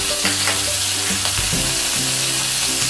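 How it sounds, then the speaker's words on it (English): Garlic hits hot olive oil in the same pan used for searing and sizzles loudly and steadily up close, with a few scraping stirs, and no talk over it. "After the searing, we will start with sauteing our garlic."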